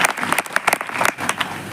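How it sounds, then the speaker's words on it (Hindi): Trainees break into a short burst of loud applause for a woman who runs a fancy goods and grocery shop, at a distributor training session. The crisp, close clapping lasts under two seconds. "मैडम के लिए एक बार जोरदार ताली बजाओ"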